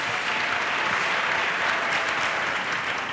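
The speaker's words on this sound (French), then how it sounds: "Let us clap for Jesus." A church congregation claps together in sustained, dense applause, loud and steady throughout with no break, and no voices stand out above it.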